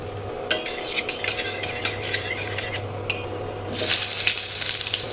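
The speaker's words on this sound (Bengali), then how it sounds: "দেখো সর্ষের তেল দিয়ে দিলাম, জিরে ফোড়ন," Cumin seeds, dried red chilli and bay leaf temper in hot mustard oil in a pan, with scraping stirs and clinks building into a soft, steady sizzle near the end.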